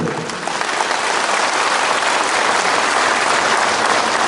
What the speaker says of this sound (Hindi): तो जोर से ताली दो।